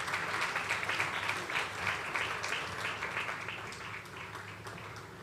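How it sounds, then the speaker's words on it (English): Sustained audience applause at the Millennium Excellence Awards ceremony, many hands clapping steadily and close, holding loud for several seconds before easing slightly toward the end. "one more time, a round of applause"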